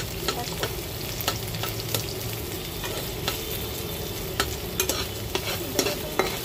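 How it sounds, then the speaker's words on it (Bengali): Onions sizzle steadily in a hot pan while making chowmein, with occasional sharp clicks of stirring breaking through the continuous frying. "এক সাইডে পেঁয়াজ ভাজছে"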